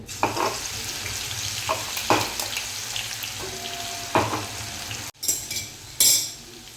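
Chopped green chillies sizzle in a pan with a steady hiss, punctuated by a few sharp spatula clinks and scrapes, close up and fairly loud.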